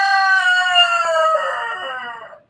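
A rooster crows once, loud and close, its long call stretching over about two seconds and trailing off at the end, with no other sound around it.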